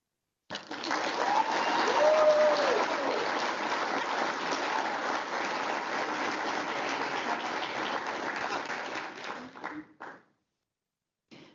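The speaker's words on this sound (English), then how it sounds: "Please give a round of applause for our Defense Acquisition Award, Individual Achievement" Sustained applause from an audience at a defense acquisition award ceremony at Fort Belvoir, a dense, steady wash of many hands that holds for several seconds, then tapers off with a few last claps.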